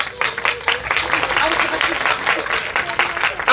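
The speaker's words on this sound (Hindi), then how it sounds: "किसको खुशी है वो जोर से ताली बजाएगा।" A congregation at a Christmas church service clapping loudly, dense rapid applause from many people nearby, with voices talking over it.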